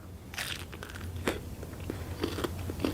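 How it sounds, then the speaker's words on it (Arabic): Someone bites and chews into a small pineapple up close, giving crisp crunching and wet crackling bites spread across a few quiet seconds. "تعالوا خلينا نجرب هذا الاناناس الصغير"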